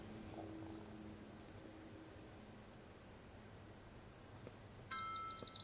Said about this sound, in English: that is the noise of when you have a new tweet.